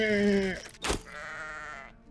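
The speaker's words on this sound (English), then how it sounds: "Oh, there's sheep." A sheep bleats in the medieval survival game Reign of Kings: a nasal, wavering bleat, a short noisy burst, then a second, longer bleat, all near and clear.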